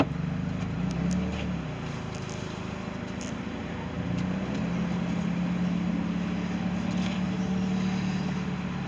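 An Ebbtide boat engine runs in forward gear, a steady, close, low droning rumble that holds unbroken throughout, with no voices.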